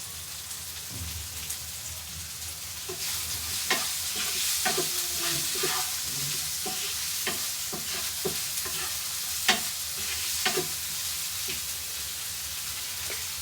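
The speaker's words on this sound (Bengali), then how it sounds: "পেঁয়াজটা একটু ভেজে নেব" Onion fries in a pan with pasta spices and spring onion greens while being stirred, a steady close sizzle broken by scraping utensil strokes, with no voice over it.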